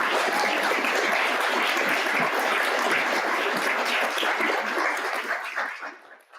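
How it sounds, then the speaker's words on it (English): Conference audience gives a loud, dense round of applause for panelists, steady clapping throughout that fades out near the end. "can we give a round of applause to these amazing panelists?"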